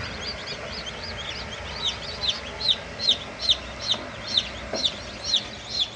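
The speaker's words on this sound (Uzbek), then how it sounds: "tepadan pastga savatga terilgan jo'jalar" Newly hatched chicks in an incubator basket give a steady run of high, repeated peeping chirps, growing louder and more regular toward the end, with soft background hum beneath.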